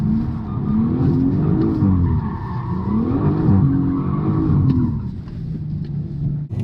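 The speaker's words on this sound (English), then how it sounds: "what it's like to do a donut with the locking diff" BMW M135i spinning a donut with a locking differential, engine droning and revving in waves while tires squeal in repeated rising and falling sweeps, loud and close, fading out at the end.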